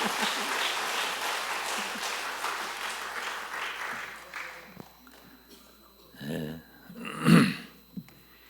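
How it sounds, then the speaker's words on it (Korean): Congregation applauding at a Sunday evening church service, a broad wash of clapping that fades out after about four seconds, followed by scattered coughs and throat sounds in the quiet hall. "박수 부탁합니다."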